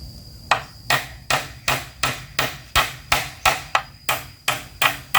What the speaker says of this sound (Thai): ตอกมาเลย